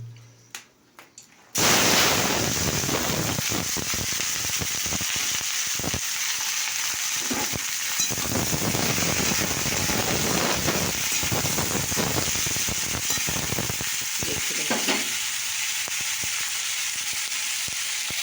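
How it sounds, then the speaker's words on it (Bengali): Dried red chillies sizzling in hot oil in a pan, a loud, steady frying hiss that bursts in suddenly after a few quiet clicks and continues unbroken throughout. "তো দেখো, আমি তেল গরম হয়ে দেখতে পাচ্ছি, দেখি শুকনো লঙ্কা দিয়ে দিয়েছি"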